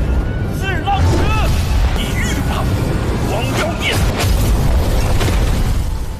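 An animated explosion in Battle Through the Heavens: a deep, rumbling boom with crackling debris and bursts, dense and continuous, with faint voices mixed into the loud chaotic noise.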